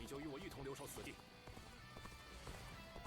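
Horse hooves gallop in the video game Dynasty Warriors Origins, a quick clip-clop rhythm heard under continuous talking and busy game sound.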